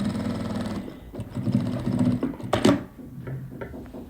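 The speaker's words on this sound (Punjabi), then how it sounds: "ਮਾਰਕਿੰਗ ਦੇ ਉੱਪਰ ਉੱਪਰ ਅਸੀਂ ਸਲਾਈ ਲਗਾਣੀ ਆ" A sewing machine stitches pleats along marked lines on a kurti, running in quick rhythmic bursts with a fast mechanical chatter, close and fairly loud, pausing briefly between runs.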